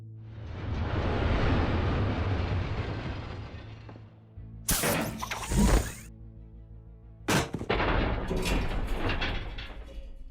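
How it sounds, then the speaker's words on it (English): A train rumbles in and roars past in Batman: The Telltale Series, a loud sustained build that cuts out, then sharp metallic clanks and crashes in separate bursts. "There's a train coming."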